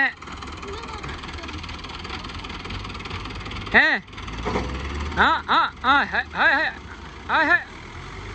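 A stuck tractor's heavy engine drones steadily and strains throughout as it works to get unstuck, while people shout excitedly over it in short, repeated bursts.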